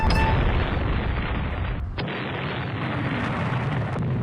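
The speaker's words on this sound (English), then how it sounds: "That's one of our battleships that just got destroyed, isn't it?" A battleship blowing up in a Rule the Waves 3 naval battle, a heavy sustained rumbling boom that fills the clip, loud and continuous with a brief dip and a fresh burst partway through.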